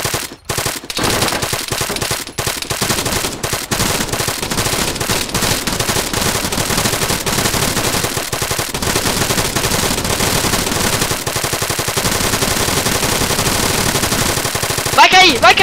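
Sustained automatic gunfire from a firefight in Arma 3, dense and loud bursts of machine-gun fire rattling almost without pause throughout, with voices faintly underneath.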